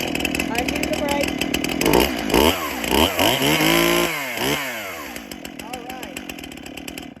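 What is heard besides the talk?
STIHL chainsaw starting and running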